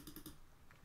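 Quick keyboard typing on a computer, a short run of soft keystroke clicks close by with a sharper final tap, no voice.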